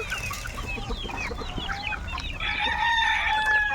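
A crowd of baby chicks peeping in high, busy, overlapping calls, close and continuous, with a few clucks from adult fowl among them.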